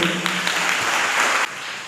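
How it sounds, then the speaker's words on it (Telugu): Audience applause at a Telugu Christian sermon, a dense, steady wash of many hands clapping that fills the clip and then drops slightly quieter near the end, with no talk over it. "గట్టిగా చప్పట్లు కొట్టు"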